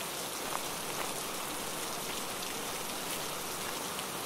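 Steady rain pours down in a dense, even hiss at moderate level, unbroken for the whole stretch with no voices.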